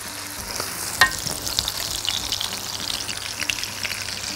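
Onions frying in a pan with corn added, a steady close crackling sizzle with a sharp clink early on and a few scattered pops, no voices.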